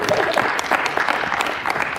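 A crowd at a community event claps for an introduced guest, a short, close burst of continuous applause with scattered individual claps.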